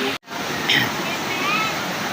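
Warm water from the Kalabato hot spring in Barangay Bocawon, La Paz, Leyte gushes out at its source in a steady, close rushing wash. A brief dropout comes near the start, and faint voices talk over it.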